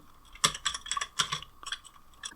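Rapid, uneven clicking of keys on a computer keyboard as C code is typed, close and clear in quick clustered bursts with no talking.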